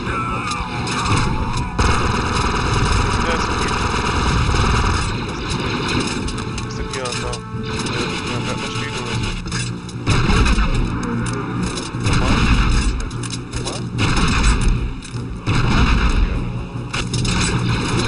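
Gunfire from the video game Star Wars Republic Commando rings out in repeated shots and heavy booms, loud and dense, while a player talks over the action.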